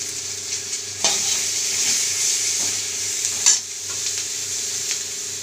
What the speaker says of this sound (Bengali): 5 ফোড়নটা ভাজা হচ্ছে